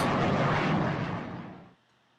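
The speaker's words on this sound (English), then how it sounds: "a terrible explosion made it a bad day for rocket scientists" A satellite launch rocket explodes in a loud, rumbling roar that fills the clip and then dies away quickly into near silence at the end.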